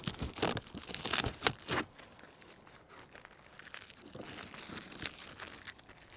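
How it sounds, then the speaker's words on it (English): Packing tape is torn and peeled off the bottom of a cardboard box in close, crackling bursts of ripping and crinkling, then gives way to quieter rustling and a few more sharp pulls. "if you pull the tape off the bottom of the box"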